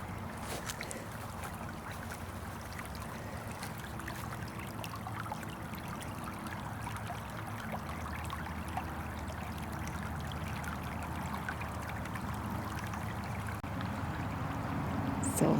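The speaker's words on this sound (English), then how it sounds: "The water is flowing." Water flows in a stream over sand, a steady broad rush and trickle that stays close and constant and swells slightly toward the end.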